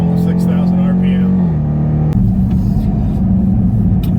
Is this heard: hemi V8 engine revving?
yes